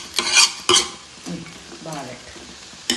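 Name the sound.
ginger being stirred and sautéed in a pan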